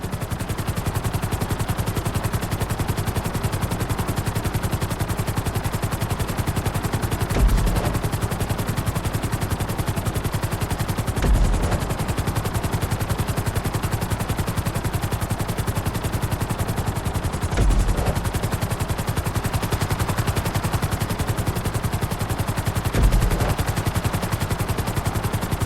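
In GTA V, a helicopter drones on with a steady, dense rotor roar. The noise stays loud and continuous, with a few short low thumps breaking in at intervals and no speech.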